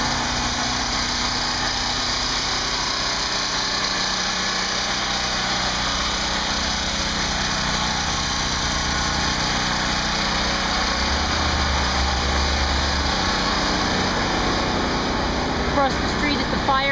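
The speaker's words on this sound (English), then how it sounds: "That sound is a generator." A generator drones steadily on a street in the Rockaways after Hurricane Sandy, its even mechanical hum running unbroken throughout, with a voice speaking at times over it.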